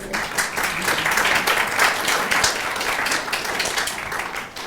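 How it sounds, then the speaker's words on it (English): Enthusiastic clapping fills a church service hall after a meditation, a dense, loud burst of many hands that holds steady for several seconds and then begins to fade. "It's pretty cool when you get applause for meditation"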